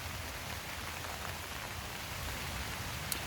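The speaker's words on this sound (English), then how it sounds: "I quite like the sound of the rain on the tarp" Steady rain patters on a tarp overhead in a woodland, a dense hiss of close drops with no voices, like constant white noise.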